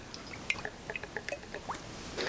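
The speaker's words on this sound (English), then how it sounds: "I'm going to pour olive oil in it." Olive oil hitting a hot frying pan while cooking fried rice: scattered sharp drips and small crackles spread across the moment, fairly faint, with a brief sizzle building at the end and no voices.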